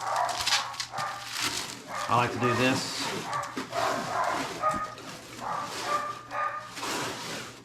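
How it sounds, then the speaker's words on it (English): Dogs bark and whimper in short bursts in a home, mixed with someone talking over them nearby. "Our stinking dogs, I'm telling you"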